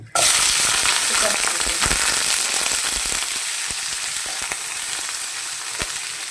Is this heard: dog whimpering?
no